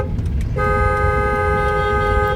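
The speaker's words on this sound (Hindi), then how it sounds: "हॉर्न देंगे लॉन्ग।" A long, steady car horn blast sounds in city traffic during a driving lesson, starting about half a second in and holding loud and unbroken to the end over road rumble.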